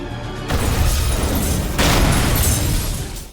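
A bomb hidden inside a doll explodes in a Thai mafia action film, a loud sustained blast with a roaring burst at onset and a second surge partway through, debris rumbling before fading out.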